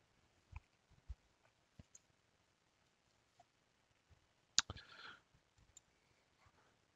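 Sparse, soft computer mouse clicks while navigating Microsoft Teams on a desktop, a few isolated taps spread out with a brief cluster of louder clicks near the middle, no voices.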